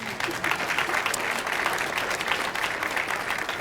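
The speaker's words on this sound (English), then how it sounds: "Yes, they do deserve a round of applause." A city council meeting audience claps steadily for several seconds, a dense, even round of applause filling the room at moderate loudness with no talking over it.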